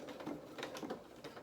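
A sewing machine running a few stitches forward and back through fabric for doll bloomers: a brief, quiet burst of rapid, rhythmic mechanical pulsing heard close, with no speech.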